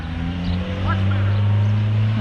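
A 1988 Ford Festiva passes by with a steady engine drone and a rising, sustained tone from the motor, heard continuously throughout.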